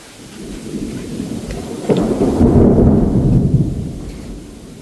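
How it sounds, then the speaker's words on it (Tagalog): A deep roll of thunder swells up and rumbles for a couple of seconds over a constant roar of heavy rain, loud and close. "Ang lakas ng ulan na to."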